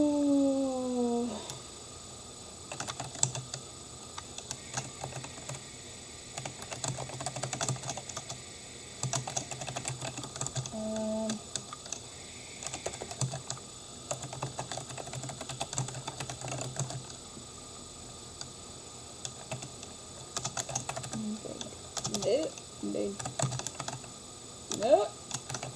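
Computer keyboard typing in bursts of close, crisp key clicks with short pauses in between, running throughout at a moderate level, with a voice occasionally heard alongside.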